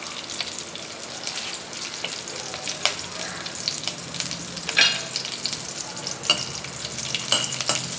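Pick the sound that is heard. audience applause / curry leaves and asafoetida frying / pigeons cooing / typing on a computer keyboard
curry leaves and asafoetida frying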